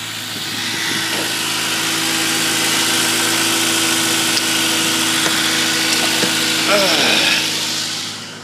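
A 2002 Honda Civic Si engine holds a steady, loud idle close by, with a brief rise in revs near the end before it settles back; the low mechanical hum continues throughout.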